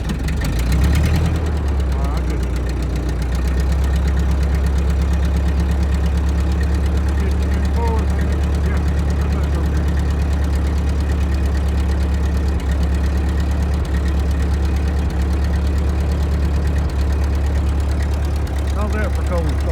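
A Ford 8N tractor engine cold starts with a brief cranking burst, then settles into a loud, steady, close-up idle with a deep low rumble that continues throughout.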